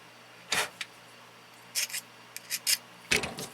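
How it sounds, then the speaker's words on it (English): Hand reaming of a brake part in a mechanic's brake job: short dry scraping and rasping strokes, several separate bursts close up with quiet gaps between, no talk. "and just ream this."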